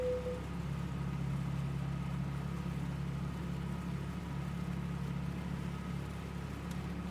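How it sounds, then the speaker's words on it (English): A Cessna 172 piston engine idles steadily just after start in a flight simulator, a constant low droning hum with no talking. "Clear prop! Nice clean start there."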